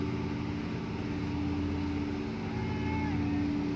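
A boat engine idles steadily at Pattani harbor in the early morning, its low droning hum continuous and fairly close throughout, with faint background harbor activity.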